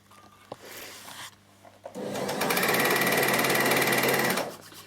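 An overlocker sewing machine stitches fabric, starting after a few small handling clicks and then running at a loud, steady, fast whir for about two and a half seconds before stopping.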